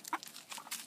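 Backyard chickens cluck in a few soft, short bursts, faint and close, with nothing else heard.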